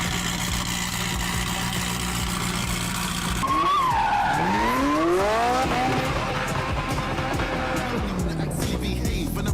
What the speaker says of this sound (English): Lewis is driving a red Ferrari.